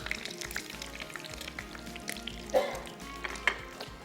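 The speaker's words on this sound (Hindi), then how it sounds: "एक एक करके सारे बर्गर्स को कर लेते हैं फ्राई।" Burgers fry in a pan with a steady close sizzle and a few louder crackles and clinks, with no voices.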